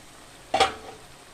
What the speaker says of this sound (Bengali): মশলাটাকে এবার একটু কষিয়ে নেব মশলাটা ছিটকাচ্ছে বলে আমি ঢাকা দিয়ে কষিয়ে নেবো